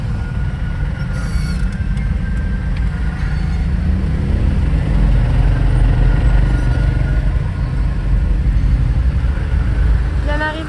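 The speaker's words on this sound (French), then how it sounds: "Arrivé dans le centre de Malang avec un trafic intense, beaucoup de bruit" Heavy, dense street traffic rumbles steadily through central Malang, a constant low roar of engines with a brief horn-like tone near the start and a faint high whine at the end.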